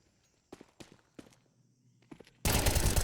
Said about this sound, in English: Lukowski with his M4 deletes Lushov.